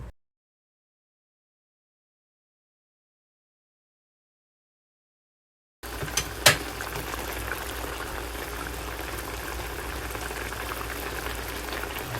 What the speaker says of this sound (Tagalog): Pakuluan pa ulit natin ng 2 minuto.